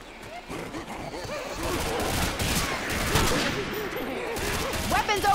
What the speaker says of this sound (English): this M16 gun sounds like freaking lame